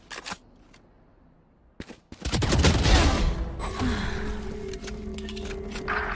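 Gunfire in the shooter game Valorant: a couple of sharp isolated shots, then a dense rapid burst of firing that settles into a sustained noisy rumble with mechanical clicks.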